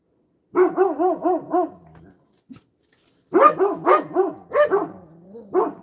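A dog barks close by in two quick bursts of rapid, repeated barks separated by a short quiet gap.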